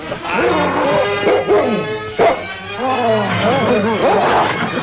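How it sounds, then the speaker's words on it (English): A vicious dog, called a one-man dog, barks and yips in loud, close, tonal bursts, some drawn out like whines, across several seconds. "Just like a Mountie to hide behind a vicious dog like that."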